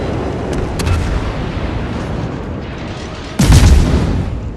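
A warship's guns fire a salvo in World of Warships, a heavy boom breaking sharply through a steady rumbling background near the end, with fainter cracks earlier and no talking.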